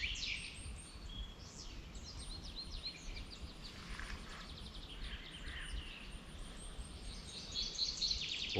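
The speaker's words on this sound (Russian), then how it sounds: "Проснулся я сегодня не от будильника, а от пения птиц." Several birds sing and chirp in a remote forest in the morning, a dense chorus of high overlapping calls and trills at moderate distance, with no talk.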